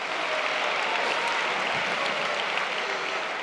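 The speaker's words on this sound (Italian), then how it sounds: "Voglio fare un grande applauso per te." Theatre audience clapping at a festival event, a steady wash of applause from a sizeable crowd, continuous and fairly even throughout.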